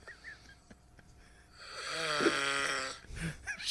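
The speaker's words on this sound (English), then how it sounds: "apparently that's me snoring" A man snores in one long, rasping, rattling breath lasting about a second and a half, with quieter breathing and snorting sounds before and after it, recorded close and fairly faint.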